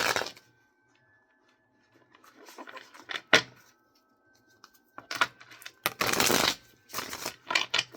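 Tarot cards being shuffled during a weekly reading, quiet riffling and tapping bursts that come in short spurts with pauses between, close and soft in a still room.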